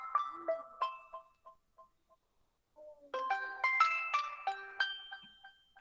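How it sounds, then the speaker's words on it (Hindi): A phone rings during a programming lesson, a melodic electronic ringtone playing a short tune, pausing briefly, then resuming louder and busier with bright repeating notes. "ओ सर का फोन है।"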